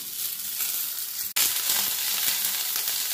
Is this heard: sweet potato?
yes